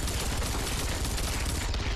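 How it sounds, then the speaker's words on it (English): Rapid gunfire from the Gallic gun in the Tomb Raider online multiplayer game, a dense, loud, continuous burst of shots filling the whole moment with no talk. "I'm ready to use my Gallic gun again"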